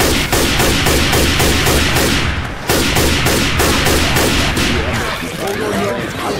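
Rapid gunfire in Left 4 Dead 2 gameplay, loud and close, with bursts of automatic shots in quick rhythmic volleys, a brief pause, then more firing as people talk over it.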